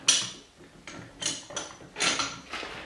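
Vise screw turned by hand on a restored Littlestown #400 bench vise, the jaw fed in: a series of short metallic ratcheting scrapes, roughly five bursts spaced about half a second apart, close and moderately quiet.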